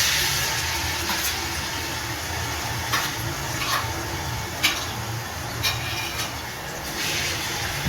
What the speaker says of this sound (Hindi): ऑयल हमारा अच्छे से गर्म हो चुका है। हमने 2 कप ऑयल इसमें ऐड किए। ऐड करते हैं प्याज।